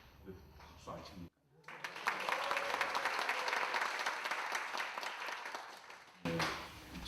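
Applause rises from the audience at an academic symposium on the May 18 Gwangju uprising, a sustained burst of clapping lasting several seconds, framed by a single voice speaking into a microphone just before and after.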